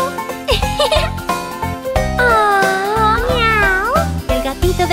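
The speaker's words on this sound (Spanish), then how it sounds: "¡Miren a los gatitos!" Cartoon kittens meow in a children's song over a bouncy musical backing, with several drawn-out, wavering meows loud and upfront.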